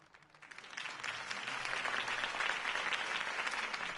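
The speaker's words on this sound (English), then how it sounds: "If only Mr. Wayne, my campaign's largest backer, could have heard that applause" Crowd applause following a campaign speech swells from quiet into a steady, dense roar of clapping that holds at full strength, filling the space without any voices over it.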